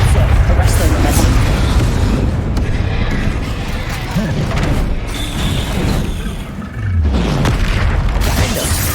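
A rumbling blast from the Confringo spell in the Hogwarts Legacy video game, a heavy booming roar that stays loud across the clip amid game effects, with a voice speaking during it.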